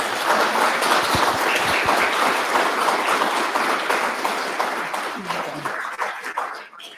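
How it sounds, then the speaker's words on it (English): Sustained applause from a crowd for speakers at a history reading festival, dense clapping that holds strong and then gradually tapers off toward the end. "how about another round of applause for our speakers?"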